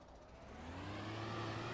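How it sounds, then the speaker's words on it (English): Engine of a tractor or farm vehicle in Farming Simulator 17 approaching, a steady mid-pitched hum whose tone climbs and grows slightly louder over under two seconds, heard alone without talk. "Sounds like John's coming back"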